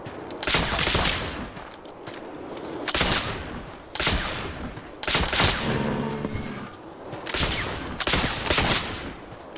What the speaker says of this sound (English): I shot that one twice